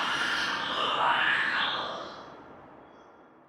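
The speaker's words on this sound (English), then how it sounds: "When a Skulk Shrieker shrieks, it also lets out a faint ringing towards the end of its scream." A Minecraft sculk shrieker's scream: a breathy, hissing shriek swelling and then slowly fading, with a faint high ringing tone emerging in the middle and tail.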